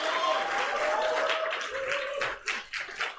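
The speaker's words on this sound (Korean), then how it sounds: "우리 성준 씨하고 찬희 씨하고 우리 감사의 박수" Thank-you applause from a university chapel congregation, a short spell of scattered clapping under a lingering sustained musical tone.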